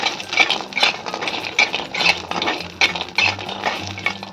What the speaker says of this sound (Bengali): আমি কিছু বড়ি ভেজে নেব।